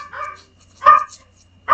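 A dog gives two or three short, sharp barks at close range, separated by brief silences, in a quiet indoor setting.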